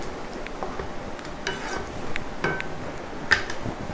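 Tempering is poured into an okra and fenugreek kulambu, giving a close steady sizzle with a few light clinks of a spoon against the pot.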